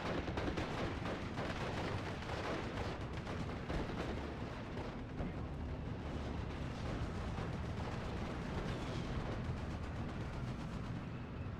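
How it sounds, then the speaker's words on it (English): Bundle grenades and artillery blast continuously in a Steel Division 44 battle, a dense, loud, unbroken roar of explosions and gunfire with no talk over it. "Grenades coming in from both sides, but the bundle grenade does damage"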